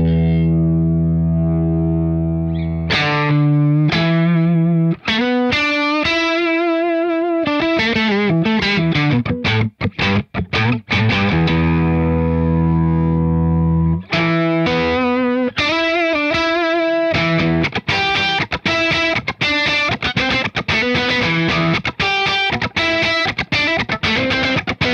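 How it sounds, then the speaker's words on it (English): Electric guitar through a BOSS OC-5 octave pedal, with a deep doubled low tone, plays a sustained note, then a choppy staccato riff with repeated short notes, loud and continuous. "Kind of a random guitar line off the top of my head"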